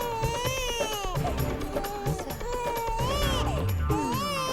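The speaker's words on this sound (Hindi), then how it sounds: "ये तो बच्चे के रोने की आवाज है।" An infant cries steadily in a home scene from a comedy series, with repeated wavering wails and short breaths between them, close and fairly loud throughout.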